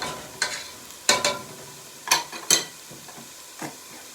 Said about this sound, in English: So now I'll put garlic in there.